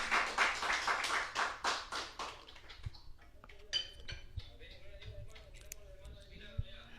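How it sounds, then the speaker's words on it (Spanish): Church congregation applauding, a burst of loud rhythmic clapping for a few seconds that fades into scattered claps and quieter room sounds with voices. "Le da un aplauso al Señor donde se encuentre."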